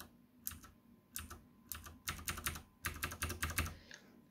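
Fingers type on mechanical keyboards with Cherry MX switches (Brown, Blue and Red), giving close, crisp bursts of rapid key clicks and clacks in uneven runs, separated by brief pauses.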